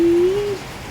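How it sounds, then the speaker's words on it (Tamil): Heavy rain falling steadily outdoors, a loud dense hiss of drops on surfaces that persists throughout, with a brief tonal whistle near the start. "மழை பயங்கரமான மழை பெஞ்சிட்டு இருக்குது"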